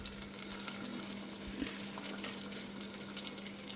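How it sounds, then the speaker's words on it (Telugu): Onions and green chillies fry quietly in hot oil with spices, a soft, steady sizzle with faint crackles over a low constant hum. "ఇది ఫ్రై అవుతూ ఉంటుంది."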